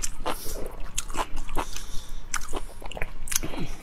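Food is chewed close to the mic during a cooking and eating challenge, with repeated moist bites and crunchy chomps in an irregular, steady rhythm, fairly loud and with no talking.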